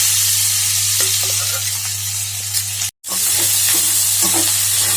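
Boti frying with green chillies and curry leaves in a pan sizzles loudly and steadily up close, with occasional stirring scrapes over a constant low hum.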